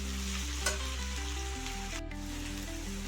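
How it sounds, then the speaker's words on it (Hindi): Masala cheese bhindi, okra slices frying in a pan, keeps up an even sizzle over background music, with a short sharp knock early on. "इसी तरीके से फ्राई करना, बीच बीच में मैं हिला मतलब टर्न करते रहिए"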